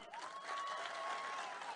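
An audience claps for newly elected BRS sarpanches at a meeting in Mahabubnagar, a faint, distant, continuous patter of applause lasting a couple of seconds.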